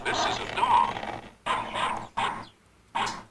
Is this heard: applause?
no